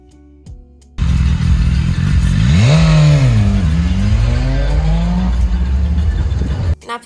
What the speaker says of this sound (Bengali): বাইক নিয়ে যাচ্ছে